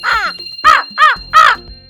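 Several crows caw in a Korean neighbourhood where a woman feeds them, four loud harsh calls spaced about a third of a second apart, close by with no talking.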